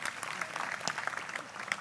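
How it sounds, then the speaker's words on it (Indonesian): Short, fairly faint applause from an audience at a public talk greeting the first group, scattered claps over a low crowd murmur. "Tepuk tangan untuk kelompok pertama."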